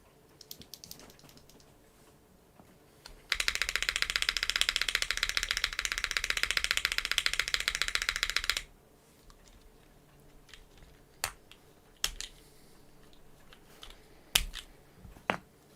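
Fast, dense typing on a Neo65 mechanical keyboard gives a close, clacky run of keystrokes that lasts about five seconds, with scattered single key clicks and taps before and after.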